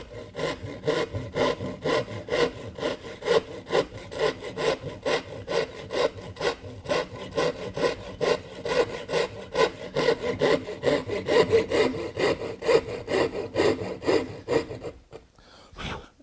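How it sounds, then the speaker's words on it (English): A hand saw cuts steadily through wood for a Shaker stool, with fast, even rasping push-and-pull strokes close up, stopping abruptly near the end. "And then as I continue to saw, I'm going to raise that up in order to cut the square."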